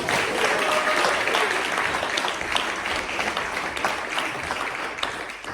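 Audience applause for a speaker at a health inequalities network meeting, a steady patter of clapping throughout with faint voices mixed in.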